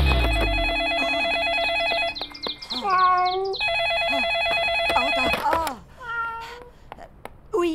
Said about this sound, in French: Oh, et ce maudit téléphone qui n'arrête jamais.